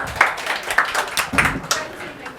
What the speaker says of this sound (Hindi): चलो मैं के लिए ताली बजाओ।